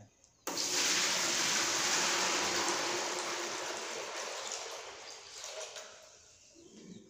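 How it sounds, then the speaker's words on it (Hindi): Water pours steadily onto salt in a container, starting abruptly as a close, hissing splash and gradually thinning and softening over several seconds. "उसके बाद आपको पानी ऐड करना है"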